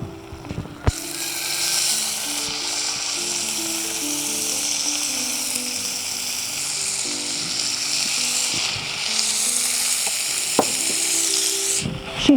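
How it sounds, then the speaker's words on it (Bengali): Chicken searing in a pan with a little salt during a shim bharta preparation: a steady bright sizzle throughout, with a few sharp clanks near the start and end, over a low melodic tonal background. "চিকেন দিয়ে ভালো করে কষে নিতে হবে"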